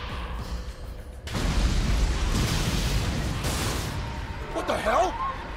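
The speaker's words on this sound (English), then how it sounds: "There's been an explosion!" An explosion in a Fist of the North Star video game involving an airplane: a sudden loud boom erupts after a quiet stretch, then a long rumbling roar that slowly fades, with a brief voice near the end.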